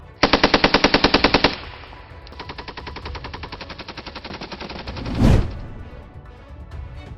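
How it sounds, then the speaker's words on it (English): A Browning M2 .50 caliber heavy machine gun fires a loud, rapid burst of evenly spaced heavy shots, then keeps hammering in a steady, slightly quieter rhythm, with a sharp blast near the end. "It's a huge machine gun with a lot of power."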